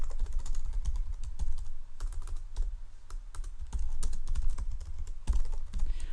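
Steady typing on a computer keyboard while entering an email address into a web form, with rapid irregular keystrokes and brief pauses.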